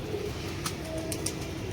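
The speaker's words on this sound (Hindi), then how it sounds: "फजलू भाई के वहाँ पे दो कबूतर आके बैठे हैं" Two pigeons perched on a net give soft, low coos at close range, faint against a steady background hum, with a few brief sharper sounds and no talking.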